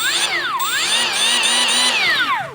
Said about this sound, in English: I'm gonna be able to use these to grind out all of the compromised aluminum